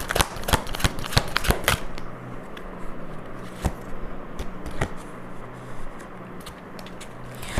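Tarot cards are shuffled close up in a rapid riffling burst, then settle into softer, scattered card flicks and slides against a quiet background.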